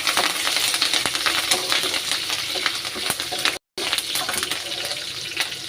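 Curry leaves hitting a hot pan while making bassaru, a steady, loud, dense crackling sizzle that fills the whole clip with only a brief cut partway through.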